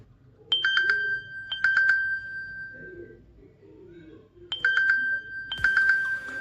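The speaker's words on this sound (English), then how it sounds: "so basically this is a ringtone of the watch" A Samsung Gear S3 Frontier smartwatch plays its incoming-call ringtone, repeating bright chiming bursts in a rhythmic pattern with short gaps between them, heard up close against a faint background.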